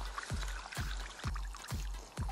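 Live bait fish splashing in a crayfish trap pulled from the Ob Sea reservoir, five sharp wet slaps at a fairly regular rhythm over continuous water sloshing and dripping, close and loud.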